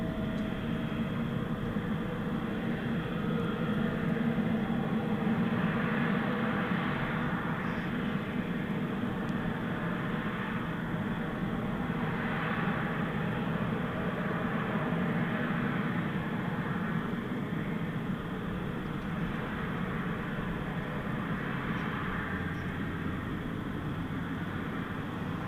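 A jet airliner taking off at night at DFW Airport gives off a steady, broad roar of engine noise that holds for the whole stretch. It rises a little and stays fairly distant, with no talk over it.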